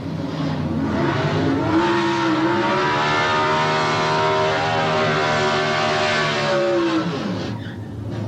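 John Taverner's green Camaro Pro Stock drag car launching at the start line, a loud, close engine roar whose pitch sweeps and climbs through gears before fading near the end.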